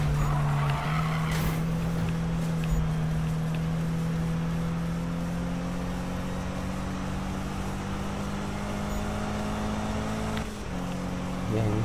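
Subaru BRZ racing in Need For Speed 2015, its engine droning steadily at a high pitch with tire squeal and skidding mixed in, a continuous loud game soundtrack with a brief dip near the end.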